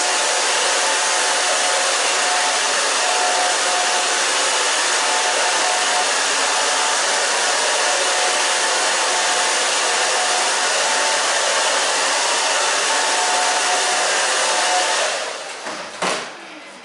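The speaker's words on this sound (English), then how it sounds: "now I'm going to use the blow dryer just for a second" A blow dryer runs loudly and steadily for a long stretch with a constant whooshing hiss, then shuts off and winds down at the end.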